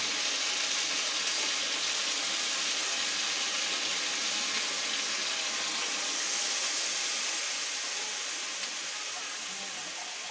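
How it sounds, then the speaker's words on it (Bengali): Water pours steadily into a cooking pot of potatoes in a home kitchen, a continuous hissing, splashing stream heard close up and evenly loud from start to finish. "এবার আমি জল দেবো।"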